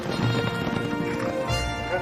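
Polo ponies' hooves clip-clop through a royal polo match, a steady close rhythm of hoofbeats with a horse whinnying over it and faint commentary in the background.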